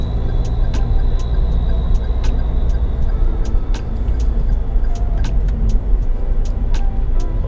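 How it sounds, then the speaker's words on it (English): A Toyota Veloz 1.5 car accelerates on a semi-urban road to overtake a truck, a loud continuous engine and road drone with ticking sounds over it. "I got to accelerate a bit to overtake this truck"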